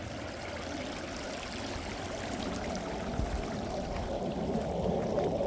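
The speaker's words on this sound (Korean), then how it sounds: "지금 맑은 개울이 이 땅 앞으로 해서 흘러 내려가고 있고요" A clear mountain stream flows past rural land beside a countryside house, heard as a steady, faint, continuous babble of running water with no voices.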